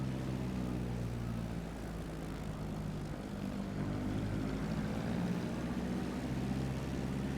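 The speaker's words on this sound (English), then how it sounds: "Increasing throttle, so we increase some altitude because we are way below the glide path." A flight simulator airplane's engine throttles up, giving a steady, loud propeller drone with a low rumbling hum that holds throughout.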